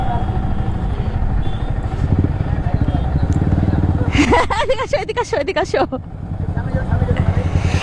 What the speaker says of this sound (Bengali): এই যে এক্সস্টটা লাগায়, তোমার বাইকে এক্সস্ট লাগানো নাই না? এই সাউন্ডটা কেমন লাগে?